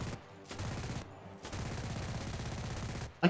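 A PPSh submachine gun with a drum magazine fired in the game Enlisted: several sustained, rapid-fire bursts separated by short pauses, close and loud, with a sharp clatter at the end.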